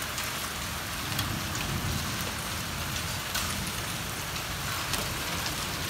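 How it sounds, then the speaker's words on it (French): Steady hail and rain falling during a thunderstorm in Valence, Drôme, a dense even patter on surfaces with occasional sharper impacts, continuous and moderately close, with no talking. "il tombe de la grêle les gars là!"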